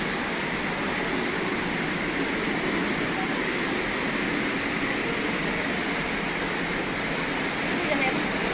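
A waterfall pours down inside Gupteshwor Mahadev Cave near Pokhara, Nepal, a steady dense rushing roar of falling water that fills the space evenly and without a break.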